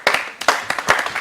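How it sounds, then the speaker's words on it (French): Brief, close applause from an audience welcoming a comedian at a live show, a short burst of a few hands clapping in quick uneven bursts, fairly loud. "Applaudissements pour"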